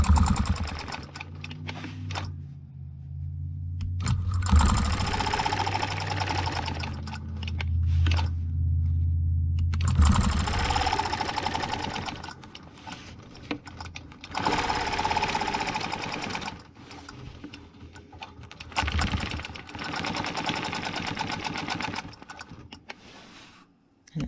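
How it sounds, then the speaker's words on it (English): A sewing machine stitches a stencil outline, running in several bursts of fast rhythmic needle clatter separated by short pauses, close and clear with no talk. "So I'm just going to stitch the outline first."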